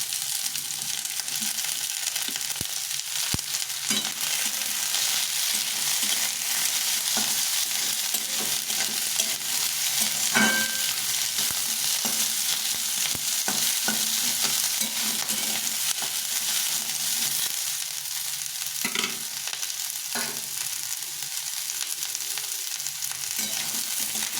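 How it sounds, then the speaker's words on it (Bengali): Capsicum and winter vegetables stir-frying in a pan for veg chowmein, giving a steady broadband sizzle throughout with occasional louder scrapes and stirs, close and without talk. "সবগুলোকে একটু ভালো করে ভেজে নেব"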